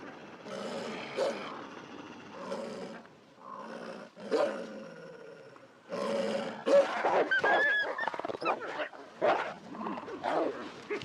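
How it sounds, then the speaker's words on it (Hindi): A wolf pack feeds in the Alps, snarling, growling and snapping their teeth in deep, rough bursts that rise and fall, close and loud, with the scuffle intensifying toward the end. "गुर्राना और दांत किटकिटाना ही झुंड में पोजीशन स्ट्रांग करता है।"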